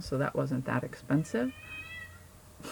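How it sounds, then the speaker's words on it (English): A pet cat meows clearly and nearby, with a drawn-out call just after a person finishes speaking, then a short pause. "by the way, that's my cat."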